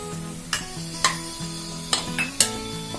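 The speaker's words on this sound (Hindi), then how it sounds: "सारी चीजों को एक बार मिक्स कर लेते हैं। अब हम इस चने में डालेंगे गरम मसाला।" A spoon stirs spiced black chickpeas with garam masala in a pan, soft scraping under a low sizzle, with four or five sharp metallic taps of the utensil against the pan rim.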